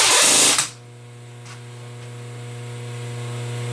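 A milling machine with a 1/4 inch cutter cuts radii on a carriage stop body. A loud, harsh cutting burst lasts under a second, then settles into a steady, humming machine drone that rises slightly.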